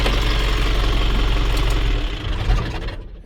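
The engine of an Isuzu camper idles with a steady, loud low rumble and slight knock, close by, then dies away as it is switched off near the end.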